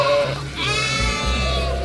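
Lambs and ewes at a large sheep farm bleat at feeding time as pens open, several overlapping calls close by, loud and continuous with a prominent drawn-out bleat midway.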